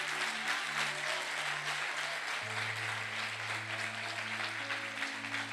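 Church congregation applauding loudly and steadily throughout, a dense continuous wash of clapping with a sustained low organ or keyboard tone underneath.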